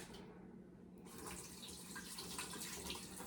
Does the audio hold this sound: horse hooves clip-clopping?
no